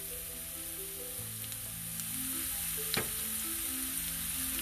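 Onions and capsicum sauté in olive oil in a pan, a steady close sizzle and crackle throughout, with a brief stir or scrape midway.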